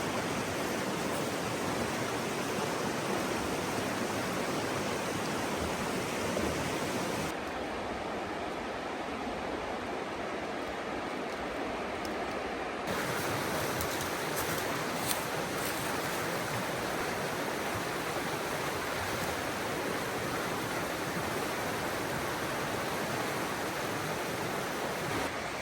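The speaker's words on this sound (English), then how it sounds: "Look at this creek." Steady broadband rush of creek water flowing on a wooded hillside property, continuous and fairly loud, with a brief softer stretch in the middle before the full flow returns.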